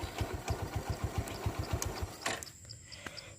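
A motorcycle engine runs with a steady, evenly spaced low chugging pulse for about two seconds, then cuts out, leaving a faint high whine.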